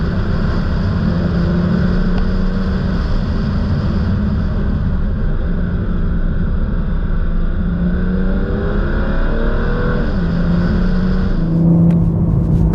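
A 2022 Toyota Supra 3.0 Premium drives steadily with a loud, continuous engine drone and road roar inside the cabin, the engine note rising and falling slightly as it moves along.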